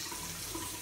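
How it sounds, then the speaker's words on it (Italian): Cold tap water runs while a face is rinsed after a traditional shave, a brief, steady splashing wash heard up close with no talking. "ci sciacquiamo un pochettino l'acqua fredda"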